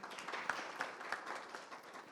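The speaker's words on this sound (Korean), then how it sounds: "박수 부탁드리겠습니다." Audience applause at a smart farm ICT equipment standards briefing, a soft, distant patter of scattered hands clapping in a hall, fairly quiet and brief.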